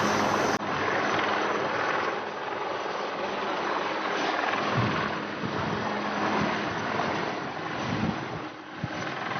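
A Dhruv helicopter's rotors roar steadily and loudly as it takes off, a dense whooshing drone that holds throughout without voices.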